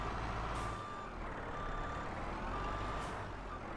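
A truck backing up in a farming video game, with evenly spaced reversing beeps over a steady engine rumble and a couple of soft air hisses, all fairly faint.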